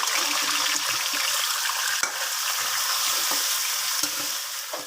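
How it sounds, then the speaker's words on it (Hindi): Steady hiss of chicken sizzling in hot oil for karahi, with occasional scraping clanks of a utensil stirring the pan. "चिकन ऐड करने के बाद अब हम इसे अच्छी तरीके से मिक्स कर इसे फ्राई करेंगे 2 मिनट के लिए"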